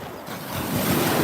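Wind and surf wash together as a sea wave rolls in, the rushing water swelling louder toward the end.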